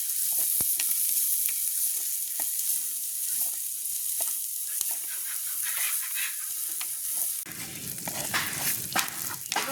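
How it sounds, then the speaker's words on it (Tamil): Onions and chillies frying in a pan in a village kitchen, a continuous sizzle with stirring scrapes and clicks, growing louder and harsher near the end, with no talking. "இப்போ வெங்காயம் மிளகாயெல்லாம் நல்லா வதங்கிடுது"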